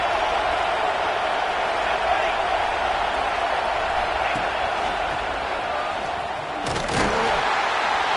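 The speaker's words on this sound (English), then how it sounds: "here comes the noise. This crowd is trying to inspire this defense to make a big red zone stop." A roaring stadium crowd in the College Football 26 video game builds a dense, continuous wall of noise during a red zone defensive stand, with a brief thump near the end.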